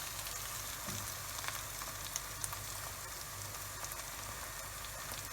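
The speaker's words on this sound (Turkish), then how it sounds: "Evet, devam ediyor biraz daha. 2-3 dakika kadar daha karıştırarak kavrulsun." Filling for içli köfte roasting in a pan while being stirred, a dense even sizzle like light rain with faint occasional ticks and scrapes, steady and quiet, no talk.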